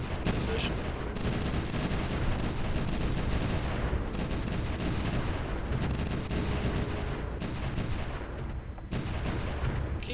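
Dense overlapping gunfire and artillery from units in the WWI strategy game Supreme Ruler Ultimate, a continuous loud rattle of shots and booms with no pauses.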